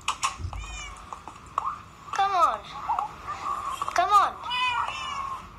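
Fire-type cat Pokemon in a Minecraft Pokemon mod game, giving several rising and falling meows in quick succession, some drawn out, while a voice speaks briefly over the game sounds.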